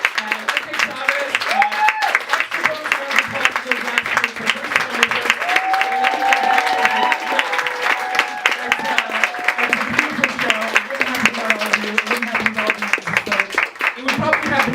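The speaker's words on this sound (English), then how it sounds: "Applaud madly." Audience applauding at a live literary salon show, sustained dense clapping from a crowd lasting about fifteen seconds, with voices calling out over it.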